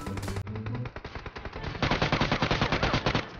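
Rapid automatic gunfire in the mobile shooter Peacekeeper Elite, dense bursts of close, loud shots that grow into a sustained rattling volley.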